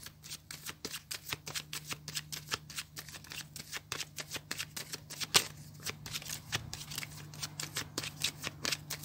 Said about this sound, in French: Je vais faire une coupe avec le tarot que j'utilise pour les consultations pour les taureaux